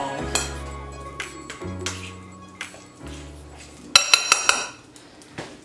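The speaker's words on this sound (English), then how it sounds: "You mix it up, scoop it out, and ball it into bite-sized balls." A spoon clinks and scrapes against a bowl while healthy dessert batter is mixed at home, giving several light ringing knocks in an irregular rhythm over a faint background hum, with no talking.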